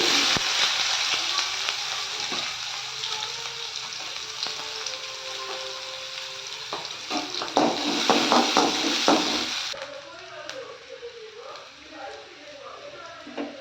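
Cumin, green chilli and onion fry in hot oil with a continuous sizzle and light stirring scrapes, loudest mid-way and then quieter as the sizzle thins, while a voice talks over part of it.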